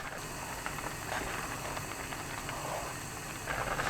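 A pot of Korean radish soup with scallions bubbles at a steady boil, a continuous close hiss and soft gurgle without voices.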